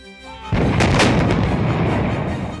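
A Bofors howitzer firing a shell: one loud, heavy blast erupts and rolls into a long, sustained rumble that fills the rest of the moment, with no voices.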